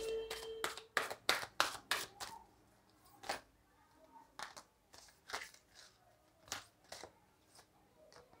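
Tarot cards shuffled and drawn by hand make a run of sharp, close slaps and riffles, dense at first and then spaced out into scattered flicks, with faint speech in places.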